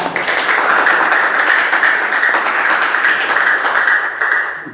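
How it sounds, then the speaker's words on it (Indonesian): A class claps steadily together, a dense sustained patter of many hands that fills the whole stretch and fades slightly at the end. "Tepuk tangan."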